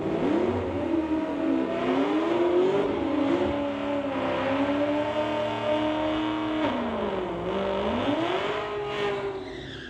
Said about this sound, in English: Randy Mitchell with that great old burnout there, the 2020 Chevy Camaro in the tower side